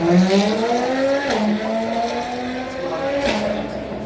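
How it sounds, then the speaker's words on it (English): A McLaren performance car passes at the Goodwood Festival of Speed, its engine note climbing steadily through the gears with sharp breaks at each upshift. The sound stays loud and close throughout, with no talk. "McLaren popping through there."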